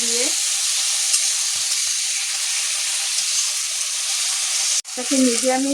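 Taro greens being stirred into a frying prawn masala give a loud, steady hissing sizzle, with a voice heard briefly at the start and again at the end.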